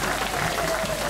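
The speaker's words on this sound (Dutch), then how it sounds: "Applaus." Crowd applauding at a rural farmers' wedding ceremony, a dense, steady wash of clapping from many hands throughout a short moment, moderately loud and close.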